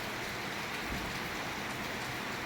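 Night rain in Nellore, the first summer shower, falling as a faint steady hiss on surfaces with a few soft drops, quiet and distant with no voices.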